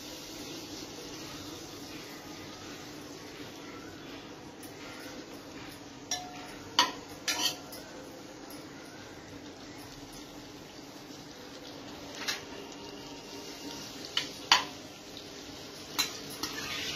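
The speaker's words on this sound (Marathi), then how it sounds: "आता पनीर आपल्याला थोडंसं फ्राय करून घ्यायचं आहे" Marinated paneer fries in melted butter in a pan, a faint continuous sizzle with occasional soft clinks and scrapes as a spoon slowly mixes it, quiet and close, without talking.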